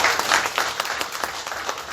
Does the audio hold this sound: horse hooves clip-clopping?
no